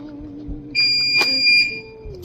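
A laminator set for 6mm pouches gives a ready beep: a bright electronic tone held for about a second, then a second shorter tone, close and clear over a quiet room with faint background hum.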